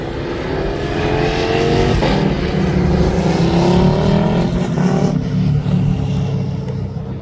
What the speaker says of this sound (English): this Ryanair down to Tenerife is just about to take off from